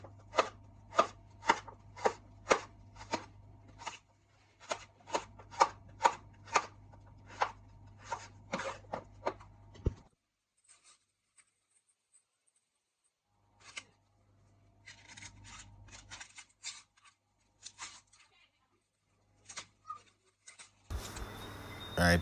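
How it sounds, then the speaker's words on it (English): A knife chops carrot and garlic for home cooking on a cutting board, giving a steady run of sharp, close taps for about ten seconds, then sparser cuts and faint scraping. "Making sure I'm cutting the ingredients just the way mom likes it,"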